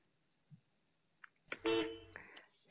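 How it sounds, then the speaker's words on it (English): A car horn sounds in a virtual-reality game, one loud blaring honk after a few faint clicks, ringing briefly before fading. "Stop honking the horn."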